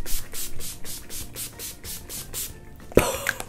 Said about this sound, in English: I'm taking the Skindinavia the makeup finishing spray.